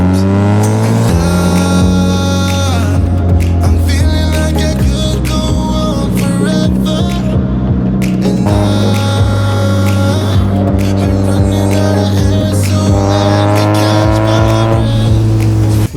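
Mazda Miata driving around a lake, its engine droning loud and steady throughout with shifting pitch as it revs and changes gear, no voices present.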